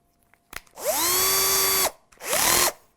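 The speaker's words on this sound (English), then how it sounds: "And we're going to drill with a smaller drill." A small power drill bores tuner holes into a maple guitar headstock, whining up to a steady high pitch for about a second, stopping, then spinning up again in a second shorter burst, close and clear.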